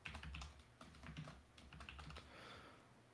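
Quiet, steady typing on a computer keyboard during a notetaking app comparison, a fast run of soft clicks and taps with no voices.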